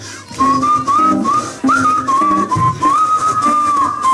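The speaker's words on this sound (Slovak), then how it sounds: "Začneme s pískaním." A crowd whistles a wavering folk melody together with a Slovak folk band, the tune rising and falling in sustained, loud phrases over soft accompaniment.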